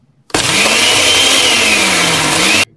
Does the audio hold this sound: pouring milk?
no